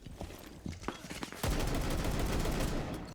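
Rapid gunfire in a Rainbow Six Siege round on the Outback map, starting with scattered single shots and breaking into a sustained, loud burst of automatic covering fire that runs to the end.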